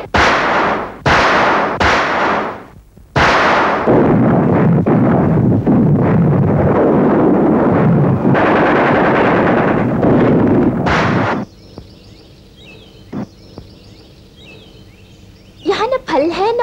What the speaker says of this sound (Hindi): मुझ पे गोली चलाता है